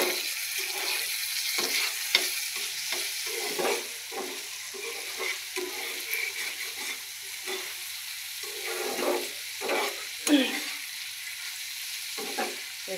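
Dried fish sizzling and frying in oil with whole garlic cloves, a steady close crackle with occasional stirring scrapes and spoon clinks, no talking.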